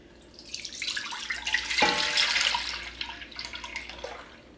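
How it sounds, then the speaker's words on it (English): Milk is dumped into a Dutch oven in a home kitchen, giving a steady pouring splash and gurgle that swells to a fuller rush in the middle and then tapers into lighter trickles and drips. The pour is close and heard alone. "Now we're going to go ahead and dump our milk."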